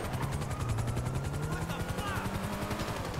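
Helicopter in the video game GTA Online, a rapid rotor thump with a rising engine whine, heard steadily under faint gunfire-like clatter.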